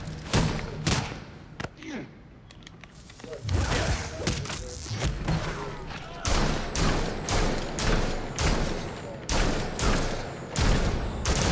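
Repeated loud gunshots and heavy impact thuds from a video game fight with Mr. Freeze, coming in rhythmic bursts across the whole stretch with a short lull near the start.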